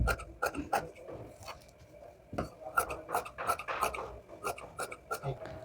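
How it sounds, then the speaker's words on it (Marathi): Scissors snip and rasp through a cloth strip being cut for a baby bonnet, a close, fairly quiet run of uneven crunchy cuts. "तर मी या ठिकाणी हे बाजूचं आहे ना हे सगळं कापून घेते."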